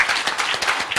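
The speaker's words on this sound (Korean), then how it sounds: "우리 모두 다 같이 박수 한번 크게 쳐줬으면 좋겠어요." An audience applauds steadily, many hands clapping in a dense, continuous patter at moderate loudness.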